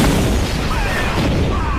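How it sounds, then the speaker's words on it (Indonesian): A film dynamite explosion destroys a counterfeit money factory, a short dense boom of roaring blast rumble filling the moment. "Ken meledakkan pabrik tadi dengan sebuah dinamit."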